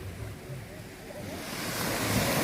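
Surf washing onto Busung beach on Simeulue, a steady broadband wash of waves with wind noise across the microphone, swelling slightly louder toward the end, with no voices.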